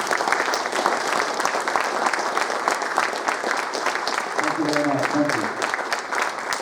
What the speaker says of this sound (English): please give a round of applause for David Pleasance.